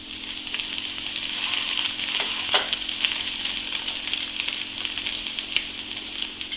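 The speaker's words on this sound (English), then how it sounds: "Now I'm smearing some oil on top of my chilla." A thin rice chilla sizzles steadily in a pan after oil is smeared over the top, producing a close, continuous crackling hiss with scattered sharper pops and no talking.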